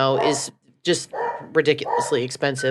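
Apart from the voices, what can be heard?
dog barking in the background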